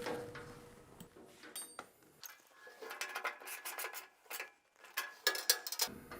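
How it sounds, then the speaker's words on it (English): A wrench tightens a lock nut during machine assembly, giving close, quiet ratcheting clicks and metallic rubbing in short irregular bursts. "Washer, the lock nut, and then finally we can tighten that up with a wrench."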